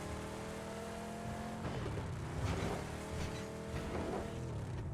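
A car drives in the PUBG battle royale game, its engine humming steadily at moderate distance with some revving and faint tire noise, without talk.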